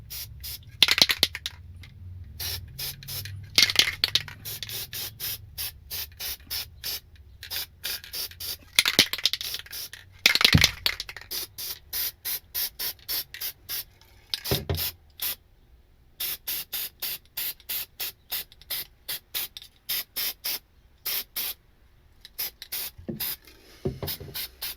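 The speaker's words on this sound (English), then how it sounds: "We're just gonna spray it right around these edges, clean up that caulk just a little bit here." Black aerosol spray paint is sprayed around the edges of caulk on a $300 Toyota Camry rebuild, many short sharp hissing bursts in uneven rapid succession, close to the microphone, with brief gaps and faint rattles between.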